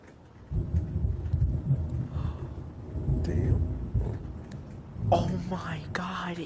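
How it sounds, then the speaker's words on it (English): Deep rolling thunder from a storm, heard from inside a trailer, rumbles low and steady for several seconds with a brighter crackling swell near the end, under faint whispering. "Here comes some more thunder."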